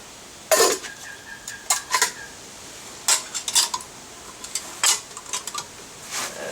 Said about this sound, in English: This is a canteen and cooking set.